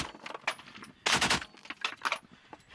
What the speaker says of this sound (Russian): В ход идет пулемет.